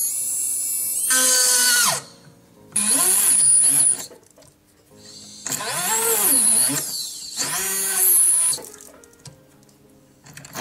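A jeweller's fine round burr on a high-speed drill cutting into metal to find the center for a diamond solitaire ring setting: several whining bursts that rise and fall in pitch, separated by short pauses, close and loud.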